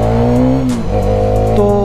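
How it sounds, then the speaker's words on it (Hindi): Exhaust of a Hero Karizma XMR 210 motorcycle, a loud, close, steady engine drone that dips briefly and then rises again in pitch, heard alone. "एक बार इसका एग्जॉस्ट साउंड सुनो। ये कुछ इसका एग्जॉस्ट साउंड है"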